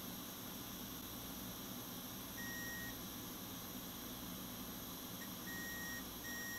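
Multimeter in diode mode on an HP Pavilion laptop board with a short circuit, giving short, thin beeps over a quiet steady hum, three faint tones spread across the clip, no speech.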